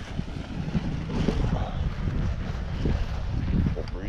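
Steady gusty wind rushes across an open homestead, a continuous broadband roar with buffeting against the microphone and no clear voices.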